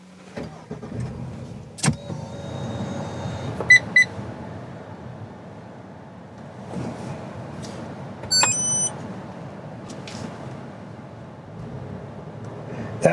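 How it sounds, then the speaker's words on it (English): Short electronic beeps from a dash cam chirp inside a moving Honda Ridgeline: a brief tone cluster early, then a quick rising series of beeps over steady road noise. "That little beep you heard was my dash cam."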